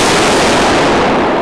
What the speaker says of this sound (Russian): Тут и драка, и стрельба.